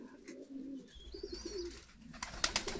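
White Stavropol high-flying pigeons cooing nearby in soft low throaty bursts, with a brief higher whistle mid-way and rustling, fluttering noise near the end.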